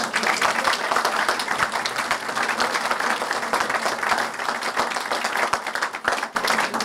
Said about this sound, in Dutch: Een applaus voor Maaike Nijhuis.